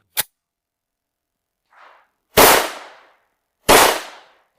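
Pellet gun shots firing light pellets, about three sharp cracks each with a short decaying tail, two of them loud and close, plus a fainter whoosh, with no talking.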